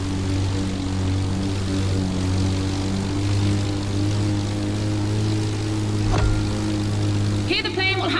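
A plane races an AGP car in The Crew Motorfest with a steady, loud droning propeller engine hum throughout, a short thump near the end and brief chattering effects, while a voice talks over it.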